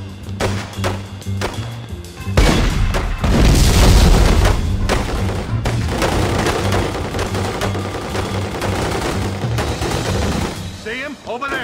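Gunfire in The Godfather II on PS3, a burst of loud booming shots and rapid bangs over a continuous dense roar, with a low droning background and voices underneath.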